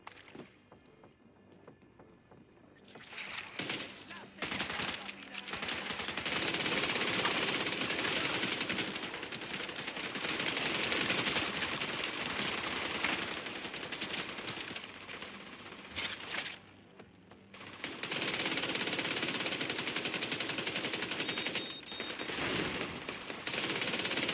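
Sustained gunfire in the Division 2 video game runs as dense automatic bursts and clattering shots for most of the stretch, loud and close, with brief pauses near the start and middle.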